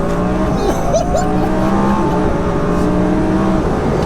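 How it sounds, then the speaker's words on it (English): A 1200bhp twin-turbo Audi R8 pulls hard in third gear, a loud, steady engine roar with rising harmonics close by inside the car, and a voice speaks briefly over it. "Drop it a couple of gears, third gear pull."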